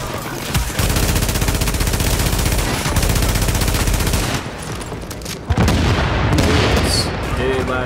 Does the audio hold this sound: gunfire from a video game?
yes